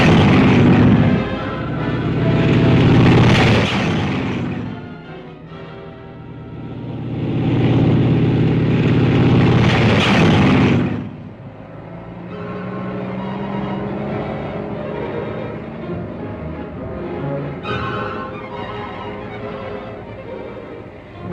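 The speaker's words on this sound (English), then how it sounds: "Tanks move up on the flank." World War II tanks advancing up a flank, heavy engines rumbling loud and close in two long surging passes, then settling into a steadier, quieter mechanical drone.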